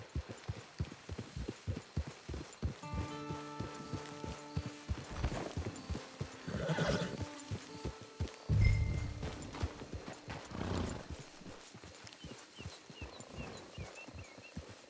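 Horse hooves clip-clopping in Red Dead Redemption Online, irregular hoof strikes at close range slowing toward a halt, mixed with a heavy thump and faint ambient tones.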